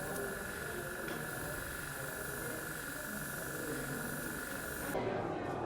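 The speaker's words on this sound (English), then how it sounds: "I'm just spraying these metallic panels." A steady, close airbrush hiss sprays Alclad II quick-drying metallic enamel onto model panels without pause, a fine continuous rush of paint that thins slightly near the end.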